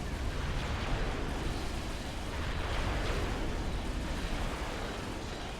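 Cerberus turrets in Supreme Commander pour a dense, continuous barrage of rumbling explosions onto Percival units, a steady roar of overlapping blasts with no voices.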